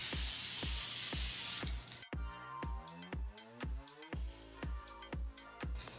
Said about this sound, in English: Maybe I didn't spray enough on this set.